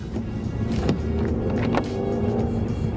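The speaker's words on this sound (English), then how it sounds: "Ooh, that sounds like a nice car." A car engine runs outside a gym, a steady low rumble close by with a couple of brief revving surges.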